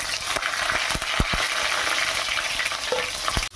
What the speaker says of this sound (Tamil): இப்போது கட் பண்ணி வச்சுருக்கிற வெங்காயத்தையும் கருவேப்பிலையும் போட்டுக்கலாம்.